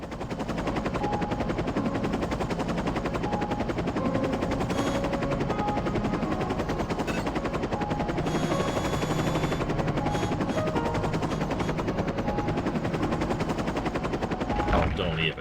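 Video game The 3rd Birthday: the Bahamut helicopter's continuous rotor drone mixed with rapid bursts of machine-gun fire, loud and sustained throughout, with a voice talking faintly underneath.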